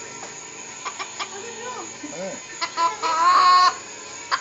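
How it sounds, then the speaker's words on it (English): A rooster gives a series of short clucks and then a longer, louder crowing call at close range, with people talking briefly nearby. "He's the ageless rooster."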